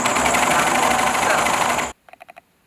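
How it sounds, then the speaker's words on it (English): A sewing machine stitches fabric in a loud, fast continuous run for about two seconds, then stops abruptly, followed by a few short, quieter mechanical clicks. "I'm just going to start sewing."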